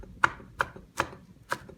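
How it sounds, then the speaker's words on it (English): Knife chopping bean sprouts on a cutting board for spring rolls: four crisp, evenly spaced chops, close and moderately loud, with no talking. "we can take the bean sprouts, and we want to cut these into about 3/8 of an inch pieces"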